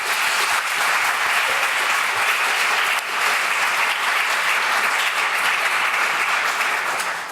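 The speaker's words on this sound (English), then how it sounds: "so please join me in a big round of applause." A large audience applauds steadily at a museum event, the dense clapping sustained and fairly loud throughout with no speech over it.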